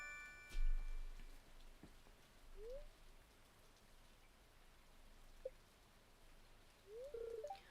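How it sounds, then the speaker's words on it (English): Steady light rain patters across a Stardew Valley farm day, a soft constant hiss with a few faint chimes and small game blips on top, no voices. "Why are you raining on a day I can't go to the mines?"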